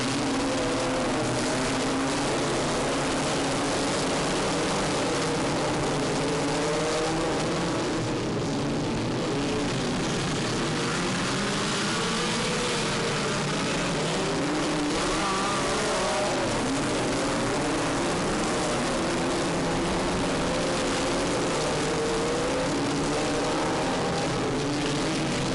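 Race cars roar off the line together at the start of a race at Bear Ridge, a loud, dense wall of engine noise building and sustained throughout with no talk over it.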